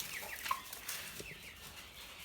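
Several Brahma and other silver-laced partridge hens clucking close by in a backyard poultry run, with soft overlapping calls and one brief sharper note, no talking.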